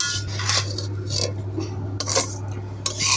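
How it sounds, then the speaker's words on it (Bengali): Browned lachha semai vermicelli stirred in a pan, repeated metallic scrapes and clinks of a utensil against the pan over a low steady hum, close and fairly loud. "বাদামি কালার হয়ে আসছে আর কয়েকটা নাড়াছাড়া দিয়ে নামিয়ে নেব"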